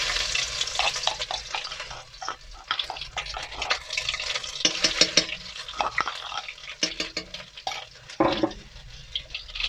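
Garlic and ginger paste hits hot mustard oil, giving a loud, irregular sizzle and crackle with bursts of spattering and stirring scrapes close by, in a Pakistani turnip greens recipe.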